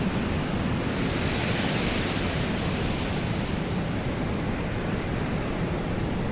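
A gust of wind roars as a loud, steady broadband rush that holds without a break for several seconds, with no voices over it.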